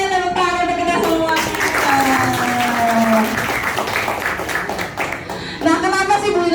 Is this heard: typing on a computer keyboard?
no